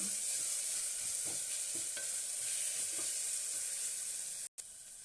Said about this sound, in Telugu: కొంచెం అల్లం వెల్లుల్లి పేస్ట్ ఒక్క 1 మినిట్ వేయించుకొని